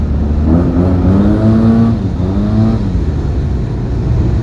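A Yamaha TMAX 560 scooter with a Malossi/Termignoni exhaust accelerates hard inside a tunnel, its loud, close engine note rising in pitch and then climbing again after a brief dip, with heavy echoing rumble throughout.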